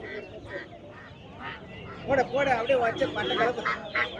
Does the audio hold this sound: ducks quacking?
yes